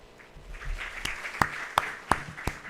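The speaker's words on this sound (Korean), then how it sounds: "큰 박수로 맞이해 주십시오" An audience at a medical lecture on the COVID-19 pandemic applauds to welcome a professor, a soft wash of clapping broken by a few sharp, louder claps near the microphone.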